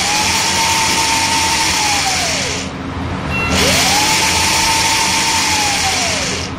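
A small DC motor driven through an L298N driver with its speed set by a potentiometer whines steadily, its pitch sliding down as it slows, dipping briefly, then rising and falling again.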